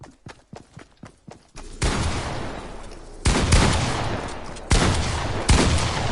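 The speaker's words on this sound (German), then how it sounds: "Wer hat mir denn da geschossen?" Gunfire in a video game opens with a quick string of about seven separate shots, then gives way to three long, loud sustained bursts of heavy fire.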